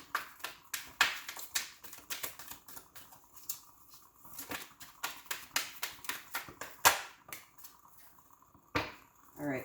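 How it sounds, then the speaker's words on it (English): Tarot cards being shuffled by hand: a rapid run of dry, papery riffles and soft slaps, close up and moderately loud, in bursts with brief pauses and no talk. "if you guys don't like the shuffling, go ahead and fast forward."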